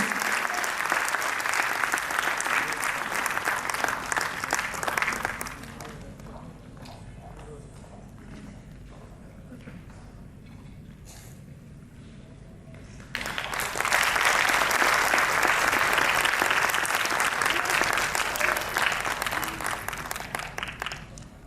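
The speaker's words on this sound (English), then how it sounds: "Audience, a large round of applause, please" Warm, dense applause fills an award ceremony hall for a student honoree, bursting for several seconds, dropping to a quiet lull with faint speech, then swelling again into a long, loud round of clapping.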